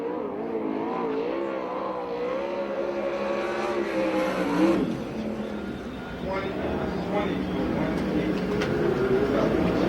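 A USAC/CRA sprint car at speed on the dirt oval at Perris, California, its engine a steady loud drone throughout the lap, with a public-address announcer talking over it the whole time.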